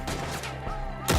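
Rapid gunfire crackles through a Red Dead Redemption 2 shootout against mountain men hiding in the trees, dense overlapping shots ending in a loud close blast.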